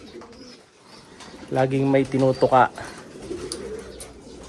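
Pigeons coo in a short burst of low, throaty, repeated calls around the middle, kept by a keeper in a loft, with someone talking quietly before and after.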